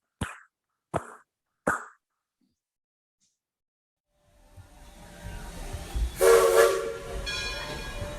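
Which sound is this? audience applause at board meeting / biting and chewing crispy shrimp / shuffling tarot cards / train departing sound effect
train departing sound effect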